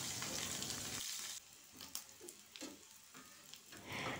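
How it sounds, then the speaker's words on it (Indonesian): Small anchovies (ikan teri) fry in hot oil for sambal terong, giving a steady, crackling sizzle that spits and pops irregularly, close by but fairly quiet, with no talking. "Sekarang saya mau goreng dulu ikan terinya, digoreng sampai matang."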